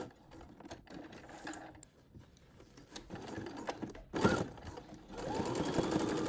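A sewing machine runs a twin needle along a folded hem on a stretch-knit bodycon top, its motor whirring in bursts with short pauses, then a steadier, louder stretch of close stitching at the end.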